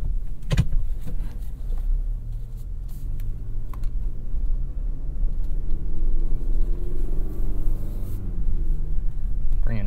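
A 2024 GMC Canyon AT4X AEV truck makes a three-point turn, its engine a steady low rumble heard from inside the cab with a few clicks and knocks and faint movement over it.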